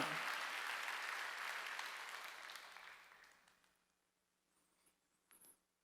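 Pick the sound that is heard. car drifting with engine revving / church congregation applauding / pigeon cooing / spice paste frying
church congregation applauding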